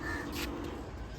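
A single faint crow caw rises over low, steady background hum in a garden in Goregaon East.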